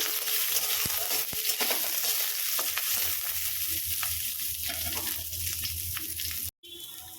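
Mustard seeds, poppy seeds, green chillies and white sesame fry lightly in a pan, a close, continuous crackling sizzle with scattered sharp pops and stirring scrapes, stopping briefly near the end.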